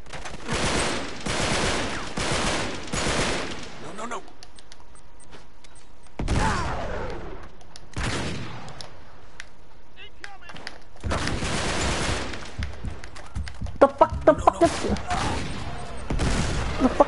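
Bursts of AK rifle gunfire in the Uncharted 3 video game, several loud volleys of rapid shots separated by short gaps, with some scattered single cracks near the end.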